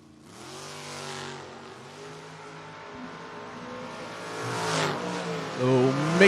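Drag racing cars at a footbrake drag race, including a Camaro held on the foot brake, with engines revving and rising in pitch toward a louder surge near the end, nearby and steady under crowd murmur.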